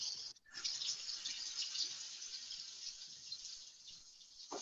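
Tap water runs steadily into a kitchen sink while Persian rice is being rinsed, a continuous close hiss starting after a brief pause, with no talking.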